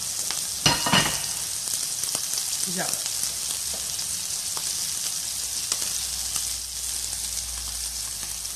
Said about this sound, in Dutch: Ja, je schroeit het even dicht.